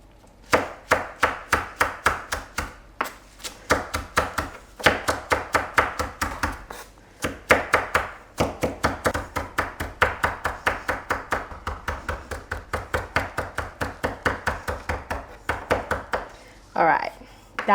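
Fresh rosemary is chopped finely with a knife on a board, a fast steady run of sharp close taps with a few short pauses, and no talking over it.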